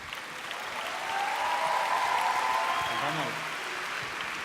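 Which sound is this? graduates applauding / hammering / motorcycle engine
graduates applauding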